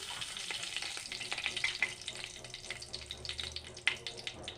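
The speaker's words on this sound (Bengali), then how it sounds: "অল্প তেল দিয়ে দিলাম তেজপাতা দিয়ে দেবো" Bay leaf frying in a little oil in a home Bengali kitchen, a soft steady sizzle with scattered small crackles and pops, faint and close, with light clinks in the background.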